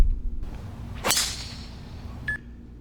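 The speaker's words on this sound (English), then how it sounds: "this was definitely one of my best drives of the day" A golf driver strikes the ball off the tee on a 418-yard par-4 eleventh hole at Firestone Country Club: one sharp, loud crack with a brief ringing tail, then quiet outdoor ambience.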